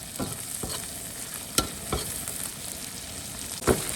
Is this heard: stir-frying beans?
yes